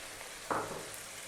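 Sliced onion drops into a pan with chicken for a spicy Indian-style chicken fry, giving a brief sizzling burst over a faint steady frying hiss.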